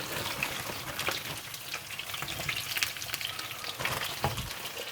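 Fish and French fries frying in a pan, a close, crackling sizzle with scattered pops and spits over a steady bubbling hiss.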